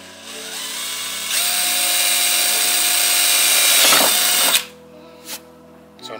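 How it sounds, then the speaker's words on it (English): A power drill bores holes through a carbon fiber car hood on a Genesis Coupe, a loud steady whine lasting about three seconds that cuts off abruptly, followed by a couple of brief clicks. "now I'm going to drill a couple holes to make it a lot easier to cut around this hole for the Aerocatch latch."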